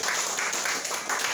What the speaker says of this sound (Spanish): Otro aplauso al Rey con gloria a Dios